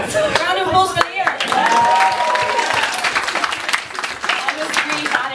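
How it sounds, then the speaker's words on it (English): A stand-up comedy audience breaks into loud applause and cheering, mixed with voices and a whoop rising over the dense clapping. "Round of applause for Leah."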